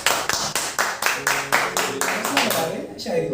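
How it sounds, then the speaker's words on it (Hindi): Audience clapping at a Hindi poetry gathering, a run of evenly spaced sharp claps at a moderate pace that sounds like a small group, with a voice speaking over it. "तो ताली बजाइए।"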